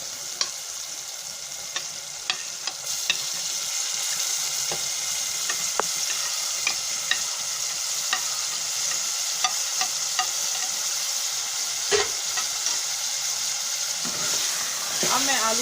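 Potatoes being stirred into a fried tomato masala for aloo shimla mirch, a steady close sizzle with frequent small clicks and scrapes of the spoon against the pan.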